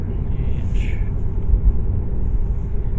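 A low, steady vehicle rumble fills the clip, loud and continuous, heard from inside the cabin of a Tesla Model 3 electric car accelerating hard.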